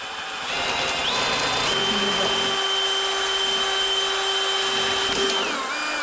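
A power drill whines steadily for several seconds at high pitch, spinning up, running continuously, then winding down.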